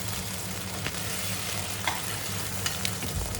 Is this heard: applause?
no